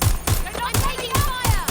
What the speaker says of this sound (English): Suspect has opened fire!